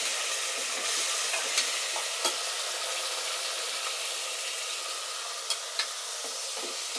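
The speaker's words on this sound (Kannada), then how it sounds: "ಟೊಮೊಟೊ ಎಲ್ಲ ಹಾಕಿ ಚೆನ್ನಾಗಿ ಫ್ರೈ ಮಾಡ್ಕೊಳ್ತಿದ್ದಾರೆ" Tomatoes frying for a tomato pulao, a dense, even sizzle with a few soft stirring taps scattered through it, steady and close with no talking.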